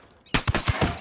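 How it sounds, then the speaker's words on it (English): A short, sharp burst of several gunshots in the shooter game Operation Kingslayer, starting abruptly after near silence. "Opening fire."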